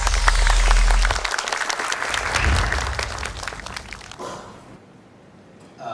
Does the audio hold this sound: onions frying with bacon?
no